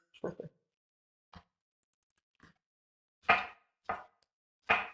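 A knife slices through mushrooms on a cutting board, sounding as sparse, crisp thuds that come in irregular single strokes, close by against an otherwise silent kitchen.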